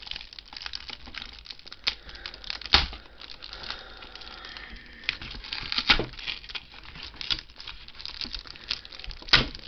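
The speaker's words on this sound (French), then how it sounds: "Alors, on va déballer d'abord le fascicule." Plastic wrapping being peeled off the booklet that comes with issue one of a Back to the Future DeLorean model kit, giving steady close crinkling with a few louder tearing bursts.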